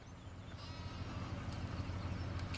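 Sheep bleating in the farming video game Farming Simulator 17, with a few soft, fairly distant calls over a low steady background hum.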